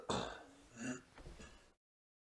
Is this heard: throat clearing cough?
yes